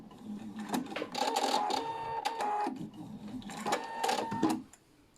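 A Pfaff Quilt Expression 720 sewing machine stitches a decorative seam in two bursts of rapid, steady mechanical whirring and clicking, close and fairly loud, with a short pause between runs and no talking.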